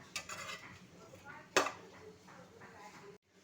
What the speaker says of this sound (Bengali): কিছুক্ষণ ভালো করে নাড়াচাড়া করে নেবেন।